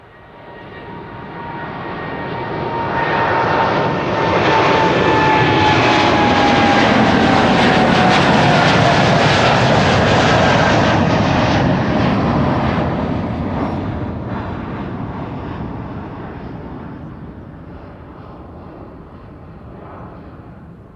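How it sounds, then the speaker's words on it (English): A KLM Boeing 787-10 Dreamliner passes at Amsterdam Schiphol Airport. The jet engine roar swells loud as it goes by, holds with a whining tone, then slowly fades into the distance. "this is KLM flight 615 to Portland, Oregon. 787-10 Dreamliner."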